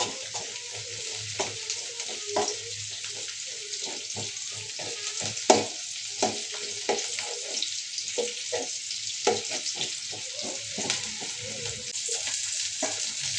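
Ingredients frying in a pan with a steady sizzle, broken by scrapes and clinks of stirring up close, with a faucet-like wash of hiss underneath and no talk.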